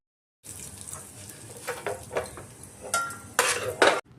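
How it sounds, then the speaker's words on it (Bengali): Fried cashews and raisins are scooped out of a pan of hot ghee, with repeated scraping and clinking of a metal spoon against the pan over a faint sizzle, louder knocks toward the end. "কাজু কিশমিশ আমার ভাজা হয়ে গেছে। এরপর আমি উঠিয়ে রেখে নেব।"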